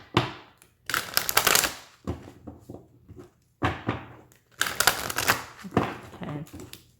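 Bursts of tarot cards being riffled and shuffled, several crisp flurries separated by short pauses, close and fairly loud with no talking.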